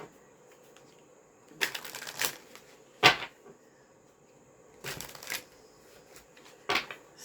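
Tarot cards are shuffled by hand in short crisp riffling bursts, several separate rounds of papery flutter and snaps, close and clear with no talking.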